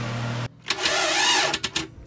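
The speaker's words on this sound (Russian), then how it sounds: "Сейчас крутанули стартером движок" A yacht's engine is cranked by its starter motor. A steady hum cuts off, then rhythmic churning turnover follows, close and fairly loud.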